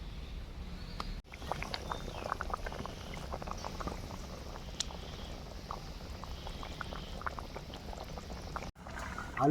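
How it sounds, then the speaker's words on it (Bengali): A fish curry broth with potato bubbles in a covered pot, a steady close burble of boiling liquid that runs continuously, briefly interrupted near the start and end. "ঝোলটা সুন্দর ফুটে গিয়েছে"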